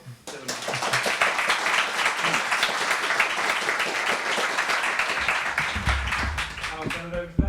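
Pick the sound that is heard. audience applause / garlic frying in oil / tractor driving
audience applause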